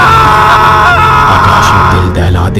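A loud, drawn-out anguished scream with groaning, yelling tones from a dramatised Hindi horror story, close and sustained throughout with a dense background score beneath it.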